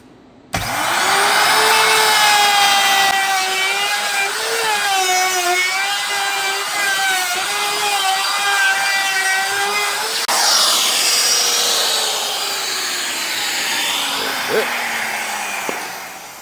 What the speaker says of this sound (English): Just getting ready to router it out.